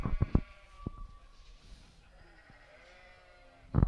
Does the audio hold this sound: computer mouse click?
no